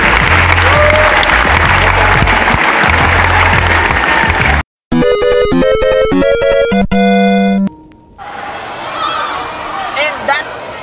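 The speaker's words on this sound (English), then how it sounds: "Let's give a round of applause to each and everyone" Loud, dense applause and cheering from a crowd at a Sportfest sports event, sustained for several seconds with voices mixed in, then cut off by a burst of music and followed by quieter crowd murmur.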